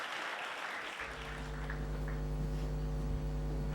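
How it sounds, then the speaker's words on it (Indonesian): A church congregation at a Sunday worship service applauding, a soft wash of clapping at first, then overtaken by sustained organ or keyboard tones and a low hum. "Beri tepuk tangan dulu untuk Tuhan kita"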